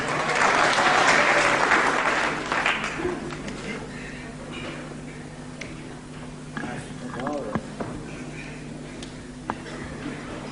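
Wrestling crowd at the Pavilion in Hemel Hempstead applauding loudly at first, the clapping fading into scattered claps and murmur while a commentator talks throughout.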